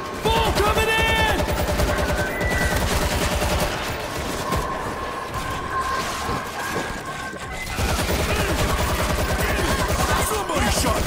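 Heavy, continuous automatic gunfire in the zombie shooter World War Z, loud and dense with rapid repeated shots layered over chaotic game noise and shouting voices for the whole stretch.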